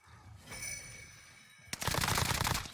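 Gunfire from the video game Call of Duty Warzone Pacific, a brief distant burst followed by a sustained rapid automatic stream of shots, loud and continuous.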